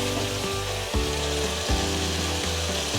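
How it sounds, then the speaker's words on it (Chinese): Cabbage and mushroom stir-fry in a wok for a vegan dish, a sizzling, tossing sound under steady tonal music. "一点点盐，快速翻炒，炒到所有味道都融合在一起"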